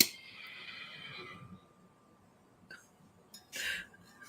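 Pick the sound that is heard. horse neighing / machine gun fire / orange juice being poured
horse neighing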